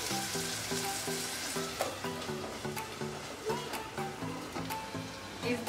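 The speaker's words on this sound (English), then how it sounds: "now you're going to put the tomato. Yeah, and now leave it for around 20 minutes to cook" Tomatoes cook in a pot for carrot rice, giving a steady, close sizzle and bubbling with a faint repeating musical pattern underneath throughout.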